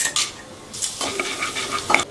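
Urad dal and chana dal tipped into hot oil with popped mustard seeds, a light sizzle broken by quick metallic scrapes and stirring clinks of a spoon in the pan, close and fairly soft, with no voices.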